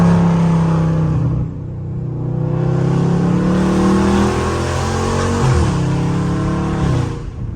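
A Dodge Scat Pack in sport mode revs hard on a quiet street at night, the engine loud and close, with the pitch climbing, dipping and climbing again over a steady growl.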